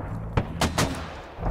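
Several sharp gunshots ring out in quick succession during a round of the military shooter game Squad, loud and close over a dense, rumbling background.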